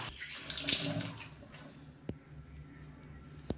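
Tap water splashes over pumpkin leaves being washed in a sink, a loud rush in the first second fading into quieter trickles with two sharp clicks or drips, close by.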